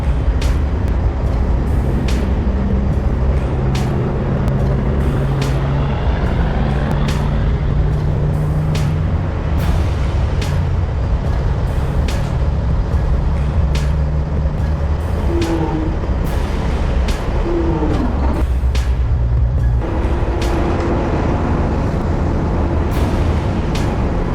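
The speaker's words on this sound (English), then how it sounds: "The engine roared, powerful like a tiger roaring in the deep forest, drowning out the splashing mud." An off-road truck's engine roars steadily and loudly as it churns through deep mud, a heavy continuous rumble with rising and falling revs and occasional clanks and squeals.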